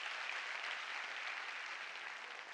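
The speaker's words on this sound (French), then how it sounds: "Vous avez applaudi." An audience applauds in a sustained, even wash of clapping that stays steady and fairly faint throughout, with no voices standing out.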